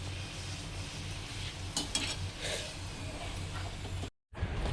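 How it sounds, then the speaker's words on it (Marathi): Puris of spinach dough deep-frying in hot oil, a steady close sizzle and bubbling with a few spoon or utensil scrapes, then a brief cut to silence before the frying resumes. "आता मी पुढच्या पुऱ्या पटापट अशा लाटून आणि तळून घेते"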